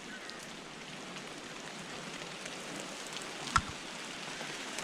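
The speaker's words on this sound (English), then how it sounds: "I'm going to give you a moment to listen to the heavy drizzle and the drops." Heavy drizzle falls steadily at a Thousand Trails campground in Pacific City, a soft continuous patter of raindrops with one sharper drop or tap near the end, no voices.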